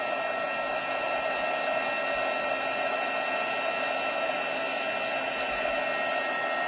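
A heat tool blows a steady, close whooshing hum while melting metallic embossing powder on a holiday craft, continuous and unchanging throughout without any talk.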